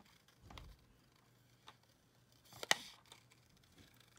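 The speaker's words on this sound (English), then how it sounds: "I'm just gonna trim this out quickly with my scissors" Scissors trim paper for a scrapbook page in a quiet room, with a faint snip early on and one sharper, crisp cut a few seconds later, both soft and close.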